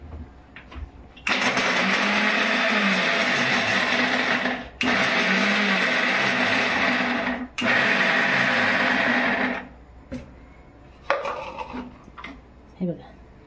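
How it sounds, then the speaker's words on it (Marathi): A mixer grinder whirs loudly in three bursts, with brief stops between runs, followed by a few clinks and handling sounds. "मिक्सरमध्ये ओवा आणि बदाम बारीक करते."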